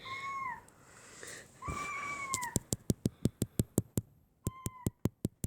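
A cat meows several times with rising-falling cries, followed by a rapid series of sharp clicks and one more short meow among them.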